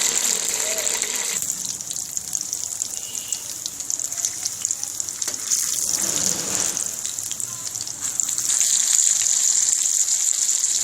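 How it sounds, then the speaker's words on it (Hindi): Arvi (taro root) shallow frying in oil in a frying pan, a steady close hiss and crackle that runs throughout and grows louder near the end, with no talking. "मैं इसको शैलो फ्राई करने लगा हूँ।"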